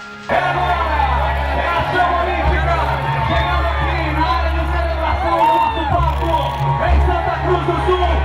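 A large outdoor crowd applauds and cheers before the stage in front of the Catedral São João Batista, greeting the 25th conductor, Fabiano Pessani. Dense, continuous crowd noise with whoops and babbling voices runs steadily over a low hum.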